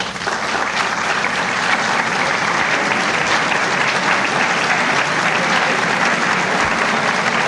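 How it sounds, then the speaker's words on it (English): An audience applauds a 1990 New Jersey state budget address, steady dense clapping that holds at an even level throughout. "the cabinet is reluctantly applauding"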